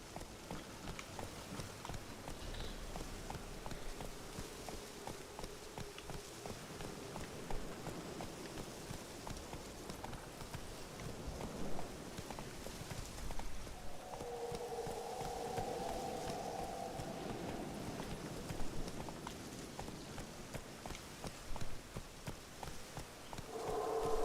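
A wild horse's hooves clip-clop in a video game, quiet, soft repeated steps over a faint background hiss with a few brief tonal game sounds partway through.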